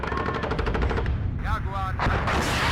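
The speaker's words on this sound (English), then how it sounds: "One nice thing about the M48s is they do have a 50 cal and the M240" Rapid machine-gun fire from M48 tanks carrying a .50 cal and an M240 in the WARNO wargame, a fast loud rattle during a town battle, with a brief voice and other battle noise later.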